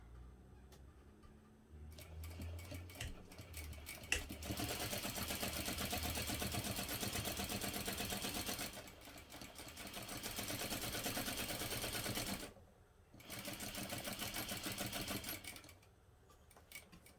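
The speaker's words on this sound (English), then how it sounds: "just sew directly along the box" A sewing machine stitches a fabric backpack along a box line with a 3mm stitch length, running in three steady mechanical bursts with short pauses between them.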